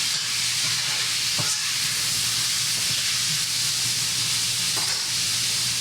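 Chanterelle mushrooms and potatoes sizzle in hot fat, giving a steady, loud frying hiss with a few faint clicks of stirring.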